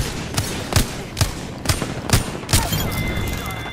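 A steady series of about six evenly spaced, punchy weapon shots in the battle royale game Apex Legends, roughly two per second, over a constant low rumble of combat.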